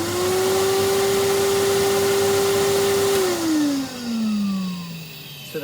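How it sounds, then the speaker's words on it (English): Vacuum cleaner run on mains hookup power inside a camper van, a loud close steady motor whine that holds, then winds down in pitch near the end. "The vacuum cleaner."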